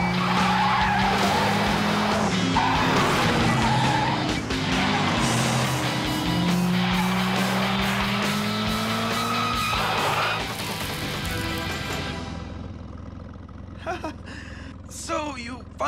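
A cartoon car brakes hard and skids, its tires squealing in long, loud wavering tones for several seconds over engine noise, then fading out into a few clattering sounds, with voices talking throughout.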